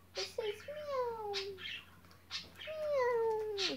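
A toy gives two high, synthetic-sounding meows, each a falling electronic tone, separated by a short pause with faint background hum.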